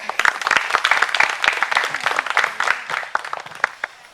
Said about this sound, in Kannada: ಸಾವಿರ ಸಾವಿರ ಚಪ್ಪಾಳೆ ನಾಡಿನ ಕೀರ್ತಿಯ ಬೆಳಗಿಸಿದ ನಿಮಗಿದು ಹೆಮ್ಮೆಯ ಚಪ್ಪಾಳೆ